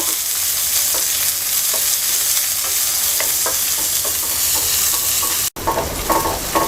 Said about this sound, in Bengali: পেঁয়াজ রসুনটাকে আমরা হালকা ভেজে নেব